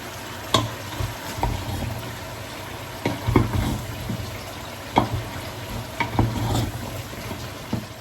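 Vegetables fry in a pan with a continuous sizzle, broken by scattered scraping and clattering stirs at irregular intervals, close and moderately loud with no talking.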